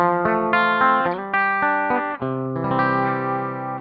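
An Ibanez EKM100 electric guitar on its bridge pickup plays a short melodic phrase of sustained, clean-to-slightly-driven notes and chords, loud and close with a touch of effects shimmer.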